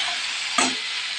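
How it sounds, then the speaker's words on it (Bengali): Food frying in a pan with salt added is stirred once, a short scrape over a steady close sizzle. "দেখো নুন দিয়ে আমি একটু ভালোভাবে নাড়িয়ে নেব"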